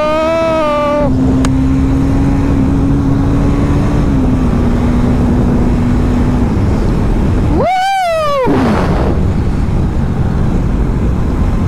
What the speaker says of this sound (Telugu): ఇప్పుడు వినిపిస్తుందా బైక్ సౌండ్?